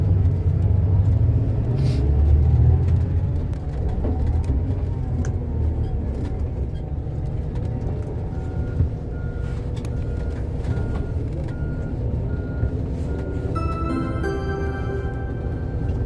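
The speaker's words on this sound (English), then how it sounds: "So we're at the bus depot now." Bus depot in London with buses rumbling and idling nearby, a low steady engine drone throughout, then repeated reversing beeps toward the end.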